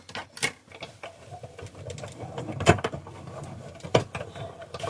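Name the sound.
die cut machine running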